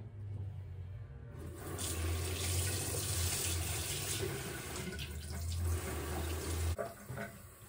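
Tap water runs steadily from a faucet to rinse an alocasia plant, a continuous close splashing hiss that stops abruptly near the end.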